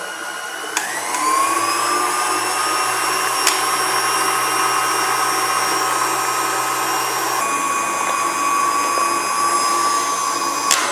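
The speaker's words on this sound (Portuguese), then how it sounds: "vou colocar ele aqui na batedeira e bater até um ponto firme" A stand mixer whips cream to stiff peaks for a coconut and pineapple pavê, its motor giving a steady high whine with a slight pitch shift partway through, alone and close.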